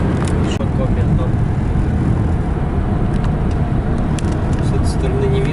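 A car driving along a road in Kirov Oblast, Russia, with a steady loud engine and road rumble heard from inside, while someone talks over it.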